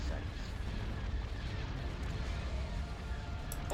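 Space battle weapons fire in the Star Wars: Empire at War game, modded with Thrawn's Revenge: a dense, continuous rumble of blasts and booms, steady and loud, with a brief laser-like zap at the end.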